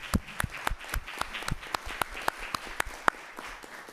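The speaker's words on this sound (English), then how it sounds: "Let's just give a round of applause to" Sparse applause from a small audience at a university Board of Visitors meeting. The individual hand claps are distinct and fairly quick, forming a light, uneven patter over a few seconds.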